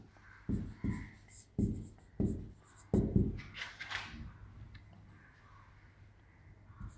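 Math is written on a classroom board during a fifth-grade primary math lesson, with several distinct close scraping and tapping strokes of chalk or marker, in bursts separated by short pauses, fading to quiet near the end.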